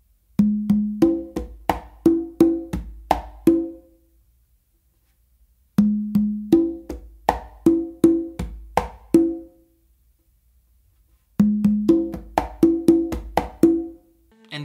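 Congas play a cha cha cha variation, with crisp open tones and slaps in three repeated phrases of about a dozen hits each, separated by silent pauses, close and alone.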